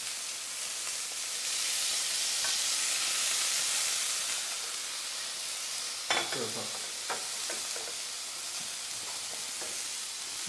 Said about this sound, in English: And give it a bit of a stir around again.